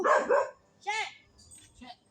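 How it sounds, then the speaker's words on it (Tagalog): A dog barks a few times at close range, sharp yelps spaced out over a couple of seconds with quieter background noise between. "Kanino aso to, te?"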